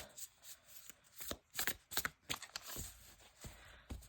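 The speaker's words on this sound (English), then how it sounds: "I'll probably be shuffling this deck overhand this way" A tarot deck from the Inner Witch set is shuffled overhand by hand, giving quiet, close bursts of papery card slaps and riffling clicks in irregular clusters with short pauses between.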